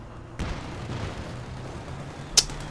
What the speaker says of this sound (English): lucky mortar shell lands there, wipes the squad